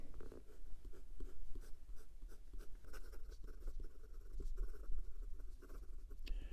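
A Sheaffer ICON fountain pen nib scratches across paper in soft, quiet strokes and taps, close up and with no talking.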